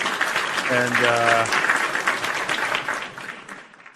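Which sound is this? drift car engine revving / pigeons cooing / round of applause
round of applause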